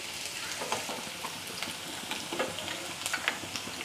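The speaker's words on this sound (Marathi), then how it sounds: "तर मी 1 चमचा चिरलेली मिरची घातली।" Chopped green chillies frying in hot oil for gobi manchurian, a steady light sizzle with scattered crackles and stirring scrapes, close and fairly quiet, no talking.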